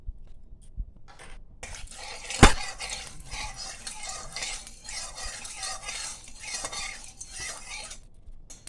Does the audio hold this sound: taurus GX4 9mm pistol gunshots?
no